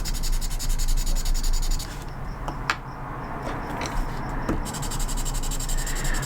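A carbon pencil scratches lines across paper, a close, dry rubbing and scraping with short strokes and a few sharper ticks, continuing steadily with no talking.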